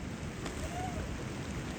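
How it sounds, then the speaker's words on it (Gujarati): Steady rain falling at Matheran: a dense, continuous, even hiss with no breaks, moderately loud and filling the whole stretch. "આ વરસાદ, ઓ આ બાજુ જો ઝરણું"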